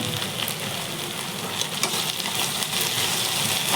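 Ivy gourd (kundri) frying in a pan gives a steady, close, dense sizzle with faint crackles throughout, and no voices.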